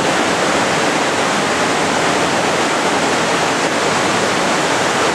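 Loud rushing water roars steadily somewhere inside a dark cave, a dense unbroken wash of sound that fills the space for the whole stretch with no voices.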